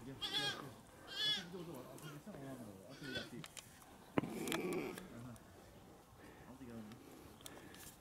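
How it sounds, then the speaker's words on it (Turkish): Large Kula Honamlı goats bleating at a farm near Antalya, several loud wavering calls repeating close by, mixed with someone talking and a sharp knock partway through. "Keçimiz."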